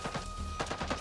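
Enemy gunfire in the video game Avatar: Frontiers of Pandora, a fast string of sharp shots crackling in quick bursts at moderate loudness, with no talk over it.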